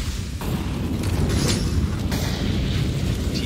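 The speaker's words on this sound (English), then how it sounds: "T-side just engulfing the apartments in flames" Counter-Strike: Global Offensive match on Inferno, with Terrorist-side incendiaries setting the apartments ablaze: a dense, steady roar of fire and crackle with muffled booms, continuous and loud throughout.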